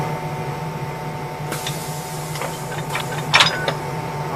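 Tight lock coupler uncoupling mechanism on a Network SouthEast DC electric unit, with several sharp metallic clicks and clunks against a steady background hum, the loudest knock near the end.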